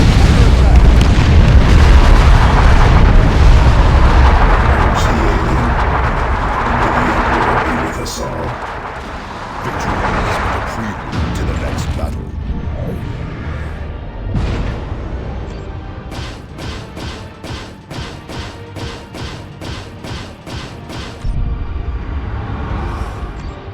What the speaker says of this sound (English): Thunderhawks 3 and 4, follow with bombing run